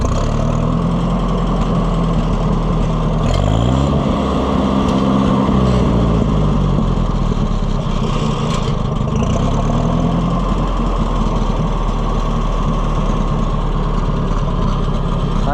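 An Oliver 550 gas tractor engine, freshly fitted with new points, runs steadily and loudly at a low, throbbing idle, with a slight rise in revs partway through and no talk over it.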